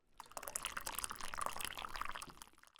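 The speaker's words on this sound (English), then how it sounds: "placing the cup right on the spout, feeling the warmth rise as the cup fills, and hearing the sound change as it gets full" Hot coffee pours from a spout into a cup with a continuous, fairly quiet splashing trickle that holds steady before tapering off as the cup fills.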